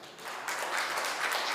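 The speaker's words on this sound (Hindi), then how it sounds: "एक बार मेरे सम्मान में भी ताली बजाओ" Audience applause at a Hindi comedy poetry gathering, a steady broad wash of clapping from a crowd that swells slightly after the first half second and holds without voices on top.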